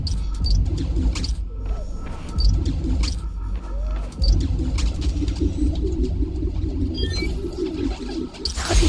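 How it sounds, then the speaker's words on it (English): Pigeons coo softly in a city park in Spider-Man: Miles Morales, low murmuring calls from a flock layered over traffic-like ambient rumble, with occasional chirps near the end. "The place was swarming with pigeons."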